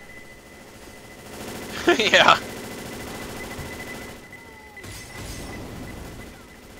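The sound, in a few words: gunfire in the video game Left 4 Dead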